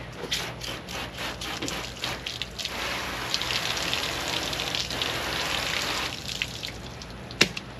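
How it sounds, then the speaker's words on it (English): Water splashes and spatters steadily onto rusty metal to rinse off muriatic acid, a close, broadband wash with dripping and a few sharp clinks, easing toward the end. "Let me rinse some of that off real quick."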